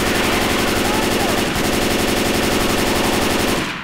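Sustained automatic gunfire in the zombie shooter Left 4 Dead 2, Swamp Fever co-op campaign: loud, dense rapid bursts filling the whole stretch, cutting off abruptly at the end.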